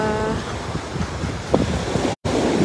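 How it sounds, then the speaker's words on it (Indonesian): Sea waves surge against the coastline at Kelurahan Santiago, where heavy surf has damaged homes; a steady broadband roar of surf and wind buffets the microphone, with a brief dropout near the end. "gelombang laut yang menghantam pesisir pantai Kelurahan Santiago ini"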